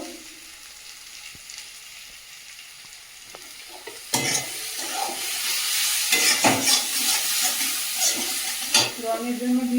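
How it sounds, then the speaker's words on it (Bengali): Spice masala with mutton being sautéed and stirred in a pan. A quiet, faint sizzle gives way to louder frying with scraping stirs and clatter in the second half. "ভালো করে কষিয়ে নেব মশলাটা ভালোভাবে"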